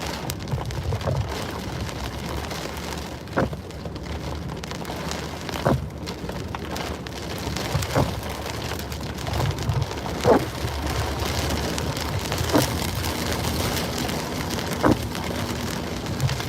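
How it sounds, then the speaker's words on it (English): Heavy hurricane rain drumming steadily on a surface, with periodic sharper taps and knocks over a constant wash of downpour. "Nothing crazy. I mean, it's definitely raining hard."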